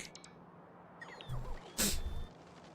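Construction bots in the video game Factorio cutting down trees: a quiet backdrop broken by two short bursts of crackling, crunching noise, the second louder, with faint chirps between them.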